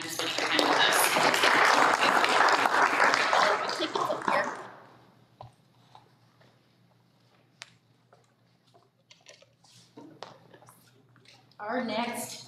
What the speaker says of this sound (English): please give Katie another round of applause for being here tonight to spend some time with us